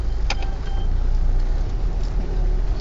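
A Mitsubishi Pajero reverses off road in four-wheel drive, its engine giving a steady, close, low rumble under faint rattles and a brief clink near the start, with no talking.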